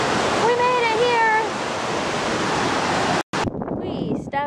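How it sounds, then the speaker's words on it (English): Bond Falls sends out a broad, constant roar of rushing water, loud and enveloping, with bursts of wind noise on the microphone. Brief tonal calls rise over it early on, and the sound cuts out for a moment near the end. "We made it to Bond Falls!"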